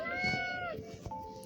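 A cartoon cat in a video game gives a drawn-out, sing-song meow followed by a shorter second mew, moderately loud over faint game background sounds.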